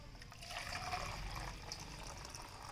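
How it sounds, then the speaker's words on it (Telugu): Liquid hydroponic nutrient solution, dissolved in one litre of water, poured into bottles; a steady pouring trickle runs for nearly three seconds at a fairly faint, even level with no talk. "మనం ఏం చేయాలంటే ఒక్కొక్క బాటిల్లో పోసుకోవాలి"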